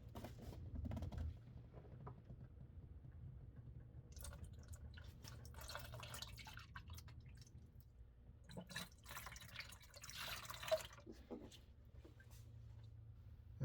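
Fluid is poured through a funnel into the engine of a 2008 Acura MDX during a rebuild, giving soft dripping and trickling with faint creaks and a few sharper splashes, quiet and close throughout.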